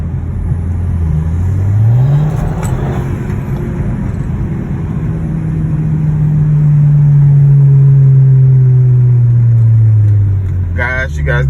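An Audi's engine revs under acceleration, its pitch climbing then holding in a loud, sustained drone, close to the listener with a voice speaking over it.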